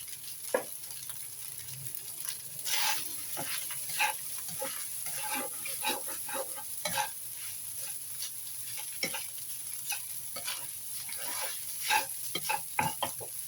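A spatula stirs and scrapes through tuna fried rice seasoned with pepper in a pan, with continuous irregular scraping strokes over a soft steady sizzle, close and fairly quiet.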